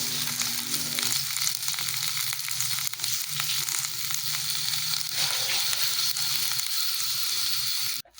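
Onions frying in a pan for a Filipino bitter gourd (ampalaya) dish, giving a steady, loud, close sizzle that runs continuously with faint scraping, then cuts off abruptly at the end.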